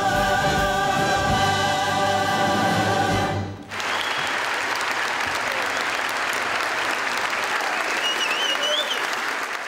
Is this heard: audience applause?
yes